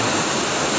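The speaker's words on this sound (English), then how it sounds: "There's the waterfall." A steady, full roar of falling water from a waterfall next to pools on a large wooded property, heard close and loud and constant throughout, with no one talking.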